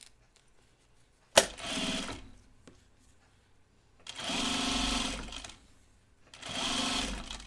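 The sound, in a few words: sewing machine stitching binding around a corner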